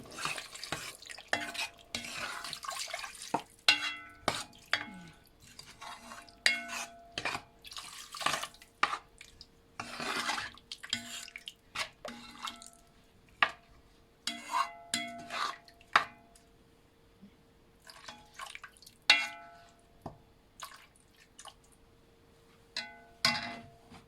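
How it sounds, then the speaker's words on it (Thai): A pot of pumpkin curry base with a little water added bubbles quietly and is stirred now and then. Intermittent clinks and scrapes alternate with soft watery drips and gurgles, alone and fairly faint. "เราใส่น้ำนิดนึง ใส่น้ำให้มันเคี่ยวไปก่อนนะ"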